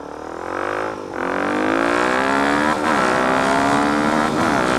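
A 2015 Yamaha R1 motorcycle is ridden nearby, its engine loud and continuous with rising and falling revs as it accelerates and eases off through turns.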